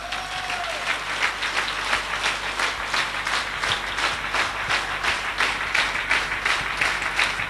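Audience applause at a motivational network marketing seminar, a steady rhythmic clapping in unison that keeps a regular beat for several seconds over a low hum.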